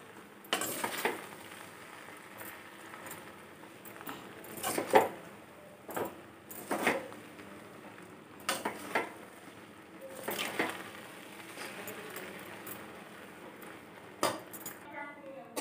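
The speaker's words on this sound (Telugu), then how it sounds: "లో ఫ్లేమ్లో పెట్టుకొని కలుపుకోండి." Puffed rice, washed and tossed with fried green chillies for Ananthapur-style uggani, being stirred in a pan over a low flame: a string of scraping, clinking strokes of a spoon against the metal pan, close and moderately loud, with pauses between stirs.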